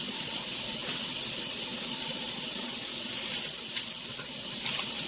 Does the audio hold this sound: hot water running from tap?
yes